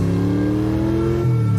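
A cartoon car drives steadily in an animated scene from The Amazing World of Gumball, its engine a loud, continuous hum that shifts pitch slightly near the end, with no talking.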